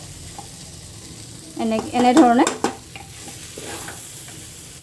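Rice and lentils hiss and scrape as they are stir-fried in a hot pan for khichdi, with a brief spoken phrase partway through.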